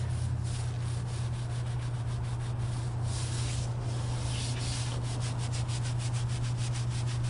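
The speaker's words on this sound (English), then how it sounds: "Just give it a scrub." A cheap brush scrubs an acid-treated stone that is still foaming, making steady, continuous rhythmic scraping strokes close up over a constant low hum, with no talking.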